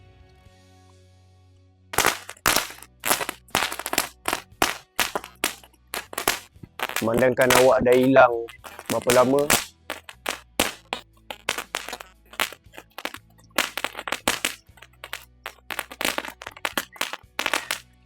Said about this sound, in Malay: kita main mercun dulu.